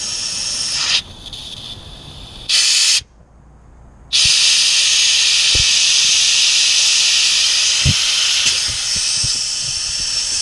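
Compressed air blasts and hisses through the fresh water lines of an Airstream trailer during drainage, loud bursts that cut in and out, then a long continuous rush with faint clicks and knocks.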